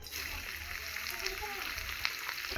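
Carrots sizzle in hot ghee in a pan with a quiet, even, continuous crackle. Light stirring taps break through the frying now and then.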